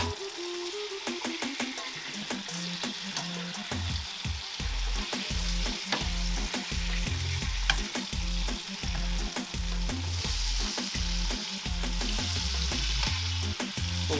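A wagyu ribeye steak sizzles loudly in a pan while being basted with fresh rosemary, with continuous close frying crackle and rhythmic spoon scrapes and splashes repeating throughout and no talking.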